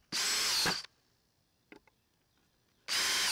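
A DeWalt Atomic cordless drill whirs loudly for under a second, falls silent apart from a brief faint clatter, then spins up again at the end.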